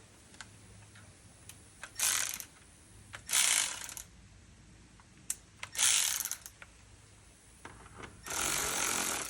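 A ratchet wrench with a 7 mm socket drives a bolt while replacing a blower motor on a 1992 Chevy S10, giving four short bursts of quick, close clicking separated by pauses and small handling taps.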